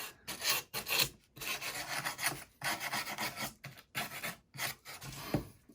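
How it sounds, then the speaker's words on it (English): Repeated scraping strokes across the fuzzy back face of rough pallet wood with a hand tool, close and fairly loud, in an uneven rasping rhythm of short bursts with brief pauses between them. "on the back, I can scrape off all these fuzzies with the same tool"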